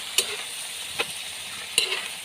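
Dinuguan mix being stirred into sautéed garlic, onion and ginger in a pan, with three sharp scraping stir strokes over a soft, steady sizzle, close by and without talk.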